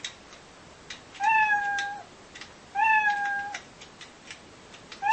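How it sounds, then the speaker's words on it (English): A cartoon cat sound effect in a Scratch programming game gives three clear, tonal meows, each rising and then holding, spaced about a second and a half apart over quiet background. "a little sound effect, a little meowing cat sound that goes with it"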